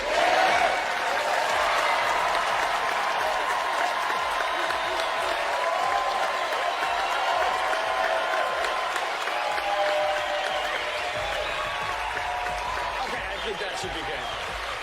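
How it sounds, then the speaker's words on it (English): Studio audience at a magic competition show clapping and cheering in a sustained, loud wave of applause throughout, with crowd noise holding steady and easing slightly toward the end. "the louder everyone here claps and cheers, the more fuel we will add"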